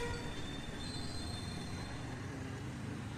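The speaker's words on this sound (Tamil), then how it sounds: "So right no our beach train just arriving on Chromepet." Electric suburban fast local train on the Chennai Beach to Tambaram line, pulling into Chromepet station in Train Simulator (Railworks 3); a loud, steady rumble of wheels and carriages with faint squeal, no talking.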